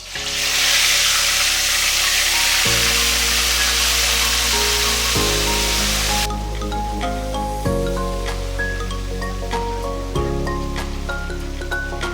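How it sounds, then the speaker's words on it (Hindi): Pieces of chicken tikka fry in hot oil, giving off a loud, steady, close sizzle that lasts the whole time, with a low rhythmic hum pulsing underneath and no talking. "अब नेक्स्ट प्रोसेस है इसको फ्राइंग करने का।"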